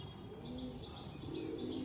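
An Andhra pigeon coos softly and close by, giving a short series of low, rounded calls against quiet background noise.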